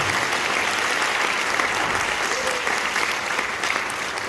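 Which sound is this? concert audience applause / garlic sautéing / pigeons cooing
concert audience applause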